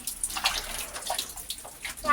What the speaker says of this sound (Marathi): बघा पाणी पाणी खेळतोय